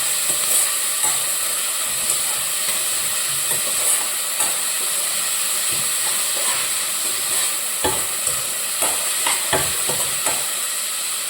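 Sliced onion fries in a pan with a pinch of salt, giving a steady close sizzle and hiss, with occasional scraping stirs and light clatter; nobody speaks.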